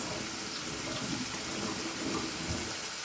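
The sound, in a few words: tap water washing hands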